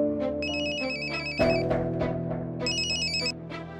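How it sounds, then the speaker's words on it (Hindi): A phone ringtone plays a repeating electronic melody in two bursts, with a brief dip between them, sounding close and moderately loud with no talking. "पुनीर बाबा मोदी के फोन को अनदेखा मत कीजिए, बात कीजिए ना उनसे।"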